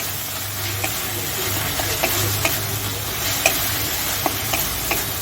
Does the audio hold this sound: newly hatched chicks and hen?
no